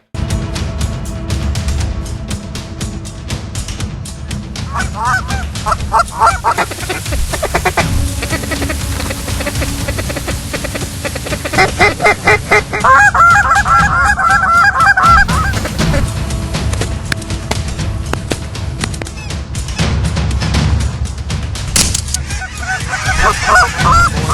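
Flock of snow geese honking in a spring field over decoys, a dense, continuous chorus of overlapping calls that swells louder in bursts, with no talking.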